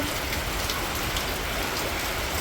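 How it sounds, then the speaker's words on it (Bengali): Sudden heavy rain pours down outside a house, flooding the steps and gate, a dense, continuous hiss of drops hitting surfaces, loud and unbroken. "হঠাৎই এত বৃষ্টিটা এলো পুরো সিঁড়িতে জল ডুবে গেছে"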